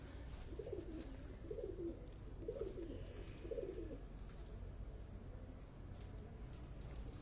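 Pigeons on a rooftop loft coo in four soft, evenly spaced throaty phrases, then go quiet under a faint steady background hum.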